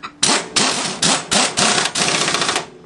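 Nuts on an Outlander bracket lift are driven tight by a power tool in six loud, close, rattling bursts, each a short hammering whir separated by brief gaps, with no one talking.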